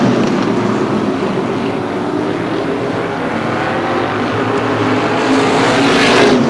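Race cars lapping at Star Speedway in New Hampshire make a continuous, loud engine roar that swells slightly near the end as the pack comes by.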